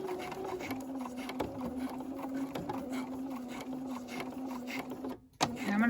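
A sewing machine stitching a tab onto a fleece bonding pouch, a steady, close mechanical whir with a continuous hum under it, running for several seconds before briefly cutting out near the end.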